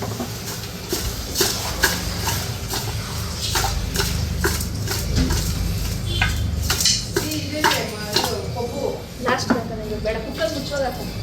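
Metal spoon clanking and scraping in a pot of mutton sambar being mixed, with repeated close knocks against the pot's sides and a person talking over the clatter.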